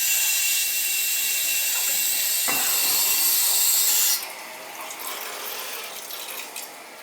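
Water rushes hard through a residential boiler heating return line during back-flushing, a loud steady hiss that drops abruptly to a gentler gurgling flow partway through, with a brief clunk of a valve.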